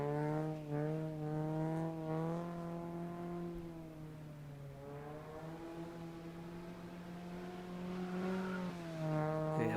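An old race car drifts on a skid pan, its engine holding a steady, wavering drone with rising and falling revs throughout, loud and close with no talking.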